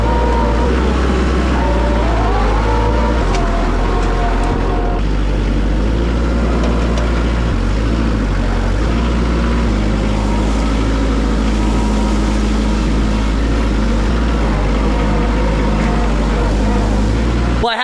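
A tractor engine runs loud and close while moving a tree, a heavy, steady, distorted drone that holds for the whole stretch with slight shifts in pitch.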